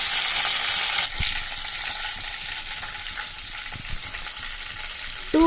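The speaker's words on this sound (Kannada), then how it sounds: "ಕರಿಬೇವು ಹಾಕ್ತೀನಿ. ಸ್ವಲ್ಪ ಫ್ರೈ ಆಗಿದೆ." Curry leaves hit hot oil for a chicken pepper dry with a sharp, loud burst of crackling that quickly settles into a steady, softer sizzle.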